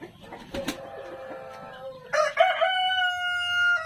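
Brahma and Black Australorp chickens cluck softly while a rooster crows loudly in two long, drawn-out calls, the second one louder and held steady to the end.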